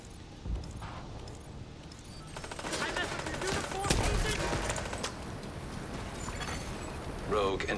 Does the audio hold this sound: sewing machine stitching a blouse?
no